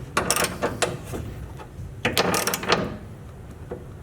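Clicking wrench working a 17 mm exhaust bolt on a Silverado RST during a Magnaflow exhaust install, heard as close bursts of sharp ratcheting clicks in a few short runs with brief pauses.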